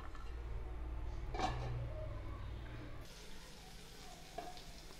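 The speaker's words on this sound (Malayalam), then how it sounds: "ഇപ്പോൾ കറിയൊക്കെ നന്നായിട്ട് വെട്ടി തിളയ്ക്കാൻ തുടങ്ങിയിട്ടുണ്ട് കേട്ടോ" Sardine chili curry bubbling in a pan on the stove, a steady low sizzle and simmer with a brief louder burst partway through, close and continuous with no talking.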